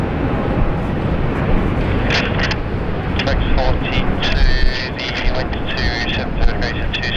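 A Singapore Airlines Airbus A350-900 jet roars steadily at an airport, a loud broadband rumble with wind buffeting the microphone, while people talk over it.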